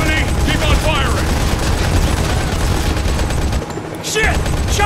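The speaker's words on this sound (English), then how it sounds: "Keep on firing!" Sustained automatic gunfire in the Modern Combat 5 first-person shooter rattles in rapid bursts, loud and close, with shouted voices over the shooting and a brief lull near the end.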